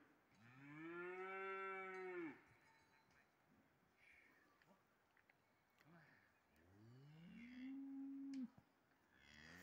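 Cattle low outdoors, a young bull and cows giving two long, loud drawn-out moos several seconds apart, with quiet rustling and faint background sounds between them.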